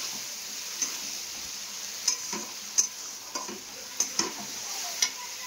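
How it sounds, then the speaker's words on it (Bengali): Spice paste frying in oil sizzles softly at close range while a spoon stirs and scrapes the pan in intermittent clinking strokes; no talking. "মশলাটা কষানো হয়ে গেছে, তেল ছেড়ে এসছে"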